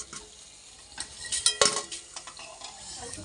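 Fried vegetable-peel fritters being lifted out of a pan of hot oil, a soft sizzle with a few scraping clinks of a utensil against the pan, brief and moderately close, no voices.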